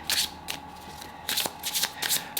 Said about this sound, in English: Let's start with your shuffling.